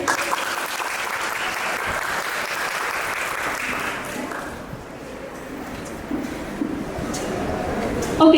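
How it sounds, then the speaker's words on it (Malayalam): A small crowd at an engagement party game claps together, a dense steady applause that runs the whole stretch, dips briefly midway, then swells again near the end, with some voices mixed in. "ഒരു ക്ലാപ്പ് കൊടുത്തേ."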